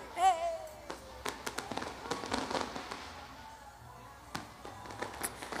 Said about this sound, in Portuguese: Olha, falei no Caio Inácio, chega a soltar um fogos